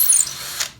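A power drill bores through a turning wooden dowel, a short close high-pitched whirring grind that tapers off within a second.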